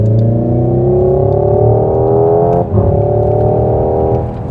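A Hyundai Ioniq 5 N's simulated combustion engine sound plays loud and close, a sustained rising drone like a revving car climbing through gears, with a brief dip as if shifting before continuing.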